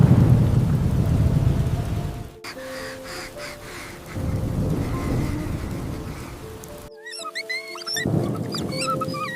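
Pouring rain hisses heavily with deep rumbles of thunder, the storm broken by abrupt cuts and quieter stretches, with faint chirping calls briefly near the end.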